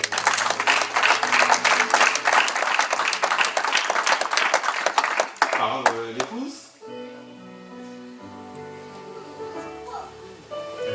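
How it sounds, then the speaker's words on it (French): Warm applause fills a wedding ceremony for the Bamonimio couple, dense clapping from the gathered guests for about five seconds before it thins out and fades, giving way to quieter room sound with background music. "Nous allons applaudir bien fort."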